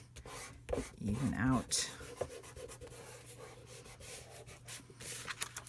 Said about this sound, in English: Now I want to rub this side a little bit,